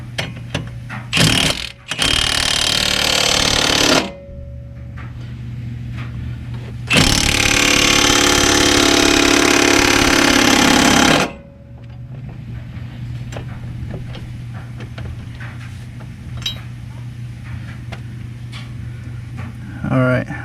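An impact wrench drives a bolt during brake work on a two-door Chevrolet Tahoe, firing in two loud, sustained bursts of several seconds each, with a low steady hum and a voice in the quieter stretches between.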